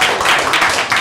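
A church congregation bursts into applause during a service, a dense, sustained wash of many hands clapping together for a brief moment.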